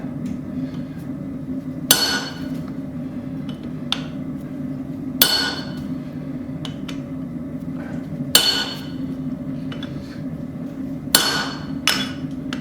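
A hammer strikes hot steel on a cold anvil while a small cross peen hammer is forged, sounding four sharp, ringing blows spaced a few seconds apart over a low, constant background hum, with no talk.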